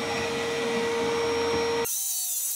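A miter saw cuts through wood in a home workshop, a loud, steady whining buzz that holds evenly and then drops abruptly into a higher, hissing spin-down.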